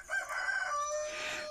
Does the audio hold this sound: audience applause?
no